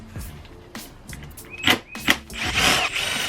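Allen bolts come out of a Corbeau A4 seat base during a Forester XT seat install: a string of clicks, ratcheting scrapes and two sharp metallic squeaks, ending in a louder rustling clatter close by.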